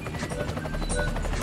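A helicopter in the Roblox video game flies with a loud, steady rotor thump and buzzing drone, close and continuous, with no voices.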